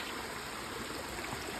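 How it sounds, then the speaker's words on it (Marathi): A mountain stream carries fresh rainwater down the hillside just after rain, rushing in a steady, close, broadband wash with no break. "we have got a stream here"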